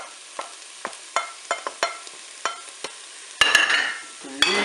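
Button mushrooms tipped into a Cookeo multicooker pot and stirred, with several sharp spoon clicks against the pot followed by a sudden burst of frying sizzle, close and fairly loud, no voices.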